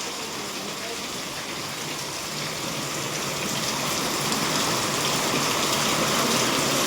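Sudden rain pours down on a rooftop terrace as a dense, steady hiss that grows a little louder over several seconds.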